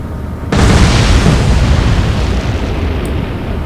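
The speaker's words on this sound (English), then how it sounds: "Here come my torpedoes" Torpedoes hitting ships in the naval game Atlantic Fleet set off a loud, close explosion that bursts in suddenly and rolls on as a dense, rumbling roar to the end, with no talking.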